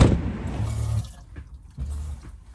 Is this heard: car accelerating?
no